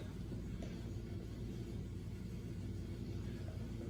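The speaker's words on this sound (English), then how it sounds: "That's my heater kicking on." A steady low rumble, like a heater or furnace running, fills the room continuously with no talk.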